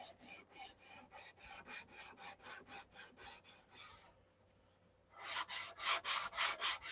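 Rhythmic, close strokes of sanding on a fiberglass cowl of a Viper aircraft, a regular rasping back-and-forth that pauses briefly before resuming faster and louder; no speech.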